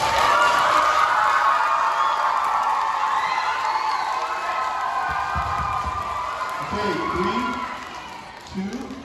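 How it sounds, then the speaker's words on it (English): Applause and cheering from a school assembly crowd of children honouring staff and teachers, a loud, dense, sustained roar of clapping, shouts and whoops that fades slightly toward the end. "let's give them a round of applause"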